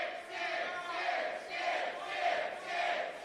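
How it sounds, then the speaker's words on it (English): A wrestling crowd at a Wrestling Open RI live show chants for five more minutes in loud, rhythmic waves that repeat about four times, with no commentary over the chant. "this crowd calling for 5 more minutes"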